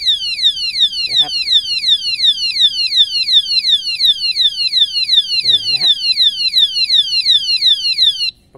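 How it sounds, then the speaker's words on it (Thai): A Wasana motorcycle disc lock alarm sounds with a rapid, piercing run of repeated electronic chirps, loud and continuous for about eight seconds before cutting off, with faint handling noise beneath. "ตอนมีใครมากระแทกหน่อยนึงเนี่ยสมมุติมีใครมาก ระแทกที่รถใช่มั้ยหรืออะไรเงี้ยนะมันจะดังเตือน"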